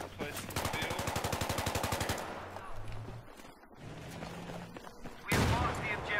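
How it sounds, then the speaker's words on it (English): Battlefield 3 gunfire on the Seine Crossing map in Conquest: a rapid burst of automatic fire for about two seconds, then scattered distant shots and game ambience, ending in another loud burst of fire. "I'm getting shot at by something."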